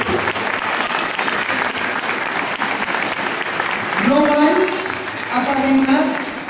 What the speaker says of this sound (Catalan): un aplaudiment per aquesta colla del nostre país